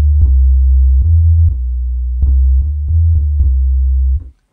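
A deep, sustained 808 bass tone, a sine wave dropped an octave, pulses under a sequence of short clicky drum hits, then cuts off abruptly at the end.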